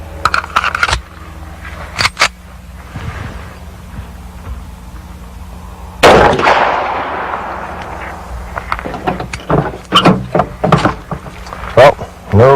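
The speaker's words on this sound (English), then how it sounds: "now we're going to try the 45. This is a 230 grain full metal jacket bullet first." A .45 pistol fires a 230 grain full metal jacket bullet at a door, one loud sharp report with a decaying tail, amid scattered clicks and handling noises before and after.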